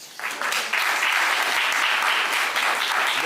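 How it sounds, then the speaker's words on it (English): A crowd at the Montego Bay Community College 2021 graduation ceremony breaks into applause, swelling quickly from a soft start into loud, steady, dense clapping that holds to the end. "That deserves another round of applause."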